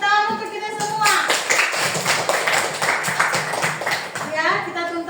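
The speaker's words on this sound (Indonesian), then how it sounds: "Tepuk tangan untuk kita semua." Classroom applause breaks out, a burst of many hands clapping continuously for several seconds, mixed with the teacher's voice talking over it before and after.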